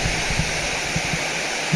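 Kaaterskill Falls rushing in winter, a steady loud broadband roar of falling water filling the whole moment, with faint low thumps underneath and no talk.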